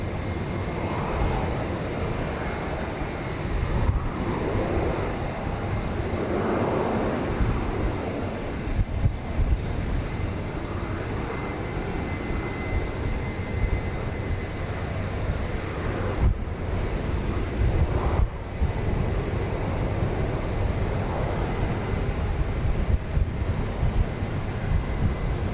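A Boeing 737-800 airliner on flight 2088 to Austin, seen from a parking garage at Dallas Love Field, gives off a steady, loud jet engine roar over 25 seconds, with wind buffeting the microphone and gentle swells as it passes.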